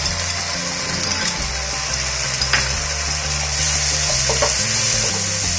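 Garlic, ginger and green chilli paste frying with lightly browned onions in a pan, a steady broadband sizzle throughout with faint clinks and scraping of stirring, no voices.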